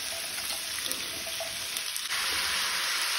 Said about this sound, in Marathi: दाळ 1 मिनिट भर परतून घेतल्यानंतर तातून शिनून घेतलेलो आम्ही कोबी घालूया।